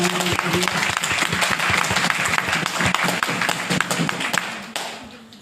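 An audience at a network marketing seminar in Nepal breaks into loud applause, a crisp, rapid patter of many hands with some cheering voices, fading out near the close.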